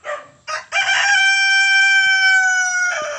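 A rooster crows loudly and close, a long drawn-out cock-a-doodle-doo after a couple of short clucking calls, with no talking.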